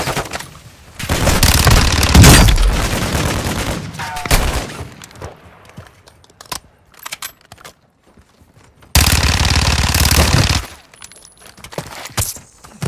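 A Call of Duty-style multiplayer game erupts in loud, close bursts of automatic gunfire and explosions, with two long intense barrages separated by a quieter stretch of scattered shots and clatter.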